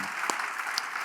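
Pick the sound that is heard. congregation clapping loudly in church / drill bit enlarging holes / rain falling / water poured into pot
congregation clapping loudly in church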